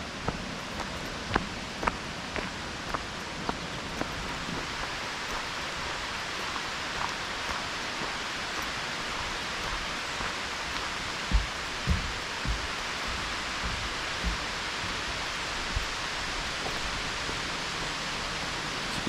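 Heavy rain falls through trees in Asbury Woods near Erie, PA, on a solo hike toward Walnut Creek. A steady, even hiss runs throughout, with scattered close drips and taps, mostly in the first few seconds.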